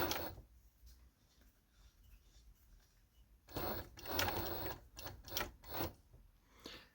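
A Necchi sewing machine runs in a few short bursts of mechanical whirring and clatter, close by, with quieter gaps between the runs.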